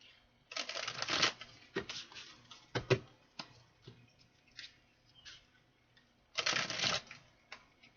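Two bursts of riffling tarot cards, one long and one short, with scattered taps and clicks between them, close and fairly quiet, no talking.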